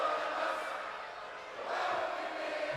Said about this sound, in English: Listen to them just singing along, telling him that he is glorious.